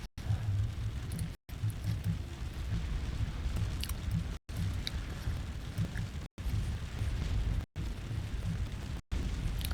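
Continuous booming roar of massed battlefield fire in the Napoleonic strategy game Scourge of War: Waterloo, with cannons firing steadily, broken by several brief abrupt silences.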